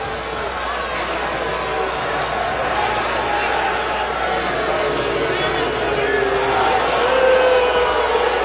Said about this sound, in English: Crowd doesn't like the call.